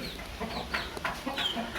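An Aseel hen clucks in short, close bursts after laying an egg, a few scattered calls over a faint background hum.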